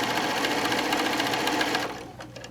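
A sewing machine stitches down the other side of a quilt seam, a rapid, even mechanical chatter running for nearly two seconds before it slows and fades into quieter clicks.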